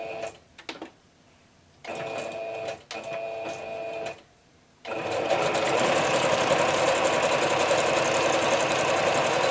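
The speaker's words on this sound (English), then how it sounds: "I'm just going to grab a zigzag stitch and" A domestic sewing machine runs zigzag stitches on a small Christmas journal, first in two short whirring bursts with pauses, then in one steady continuous run, close and clear with no talking.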